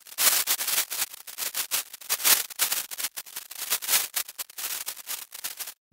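Synthesized fire hiss made from filtered noise in Pure Data, heard alone as bright, airy bursts that swell and fade irregularly with little low end, like gusts of crackling-free hiss.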